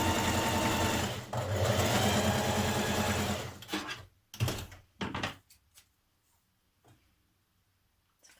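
A sewing machine back-tacks a tuck on a 1940s vintage-style Simplicity 8736 blouse, running steadily for several seconds, then stopping and leaving a few soft clicks and handling knocks.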